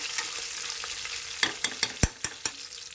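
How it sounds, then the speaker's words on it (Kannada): Spices and dried fenugreek leaves (kasuri methi) are tempered in hot oil in a pot for ghee rice, producing a steady close sizzle punctuated by several sharp spoon knocks and scrapes, with no speech. "ಆಮೇಲೆ ಕಸ್ತೂರಿ ಮೆಥಿ. ಒಗ್ಗರಣೆಗೆ ಅಂತ ಇಟ್ಕೊಂಡಿದ್ದೆಲ್ಲ ಐಟಮ್ಸ್ ಹಾಕಿದ್ದೀನಿ."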